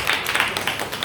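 Audience clapping at a year-end alumni performance-sharing event, a dense patter of many hands, fairly loud and even across the short moment, with no talk over it.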